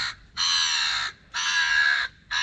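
Crows scavenging food scraps give three loud, harsh caws close by, each lasting most of a second with short gaps between them.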